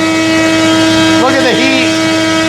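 An E-flite Carbon-Z T-28 RC plane's electric motor spins a three-blade propeller at half throttle, making a loud, steady droning whine with strong tonal harmonics and a brief wavering pitch swoop midway.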